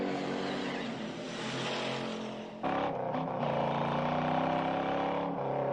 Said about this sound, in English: My God, the sound of that Mustang